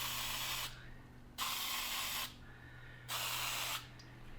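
Aerosol can of spray paint, warmed up, firing two short hissing bursts of about a second each, separated by a pause, close up over a low steady background hum.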